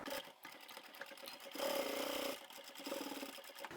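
A sewing machine runs in short bursts while stitching across the top of a bag pocket, a steady mechanical whir that rises for about a second before easing off, then starts again, with no talking.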